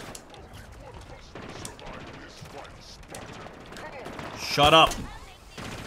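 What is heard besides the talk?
gunfire in Halo Infinite video game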